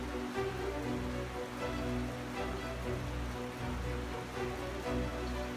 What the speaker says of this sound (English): a severe hailstorm hit